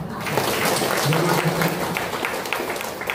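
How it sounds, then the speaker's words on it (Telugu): A crowd at a spiritual meditation gathering claps together in a continuous, fairly loud burst, while a voice speaks briefly over the applause. "గట్టిగా చప్పట్లు కొట్టండి"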